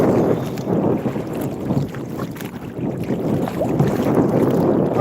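Strong wind gusts across a lake, a loud, steady roar that buffets the microphone with low rumbling and rises and falls slightly throughout, with no voices.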